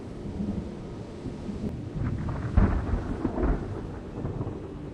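Low rumbles of thunder roll under a soft wash of rain, with a heavier boom near the middle.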